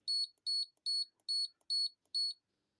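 Six short, high electronic beeps from a Stellar safe lock keypad sound at an even pace, each a quick double chirp, clear and close in an otherwise silent room.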